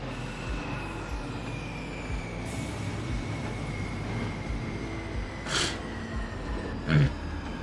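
Subway train braking on the C line toward Norwood, with a steady rumble of rail cars, a rising tonal whine and brief hissing bursts of air near the end.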